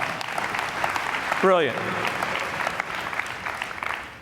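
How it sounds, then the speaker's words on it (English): Round of applause from a keynote speech audience, with broadband clapping filling the clip under a brief spoken word; a short rising whistle or squeal cuts through near the middle. "Give Todd a round of applause."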